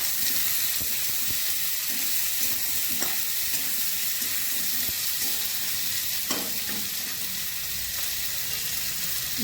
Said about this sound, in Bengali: এবার আমি পেঁয়াজ দিয়ে দিচ্ছি। গ্রেট করা আদা দিচ্ছি।